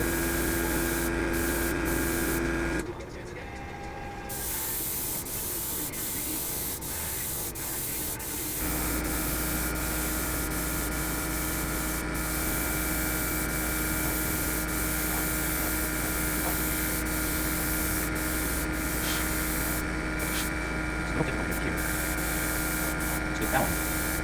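An airbrush or spray gun lays a slow wet coat of paint on an AMT 1990 Batwing model kit, giving a steady loud hiss with a steady hum beneath it and a brief dip a few seconds in.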